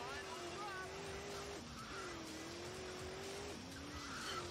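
Car driving in the video game Grand Theft Auto 2, a steady engine drone that rises and drops in pitch as the car shifts, with faint tire squeals and a voice talking over it.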